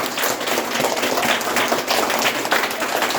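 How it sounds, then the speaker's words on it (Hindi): An audience claps steadily throughout at a motivational talk in India, the dense, even applause filling the room without pause. "ताली बजाइए"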